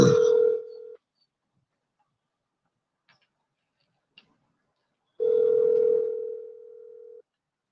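Two long steady telephone dial tones, about a second and two seconds, with near silence and a couple of faint ticks between them as a call is placed.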